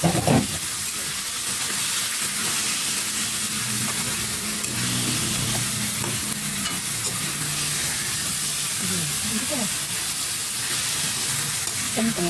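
Chicken trimmings sizzling and frying in a pan, a steady close hiss with occasional scraping as they are stirred, continuous and fairly loud with no talk.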